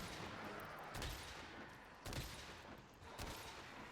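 Light bowgun firing spread ammo in Monster Hunter World, three or four loud bursting shots spaced about a second apart over steady background game noise.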